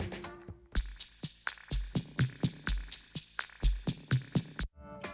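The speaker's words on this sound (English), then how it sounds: "Here's the sound of the drum machines" A drum machine beat pounds out a tight, evenly spaced rhythm of punchy kicks and crisp hits, loud and alone, stopping abruptly near the end.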